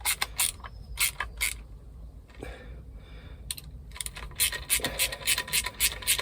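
Parts of an Eberspächer Hydronic DS4W diesel water heater are being tightened during a service. Close metallic clicks and ratcheting come in quick bursts, with a quieter pause in the middle.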